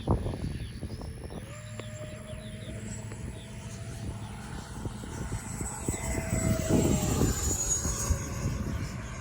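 An FMS 80mm BAE Hawk RC jet with an electric ducted fan makes a low, fast pass on a windy day. Its steady, whining fan tone builds and grows louder toward the end of the pass, with no talking.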